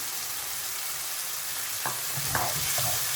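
Paneer karahi with green chili and fresh black pepper being stirred in a hot pan, a constant loud sizzle with a few scraping stir strokes near the end and no speech.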